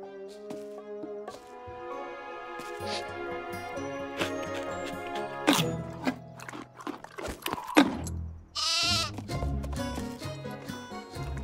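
A cartoon lamb in an animated Spirit and friends episode gives a wavering, tremulous bleat near the end, rising out of busy background music and sound effects.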